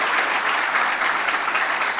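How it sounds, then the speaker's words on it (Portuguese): A church congregation applauds joyfully during a sermon, dense continuous clapping from many hands, steady and fairly close throughout. "Dá para você aplaudir com alegria?"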